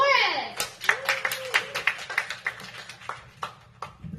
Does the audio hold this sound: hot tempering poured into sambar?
no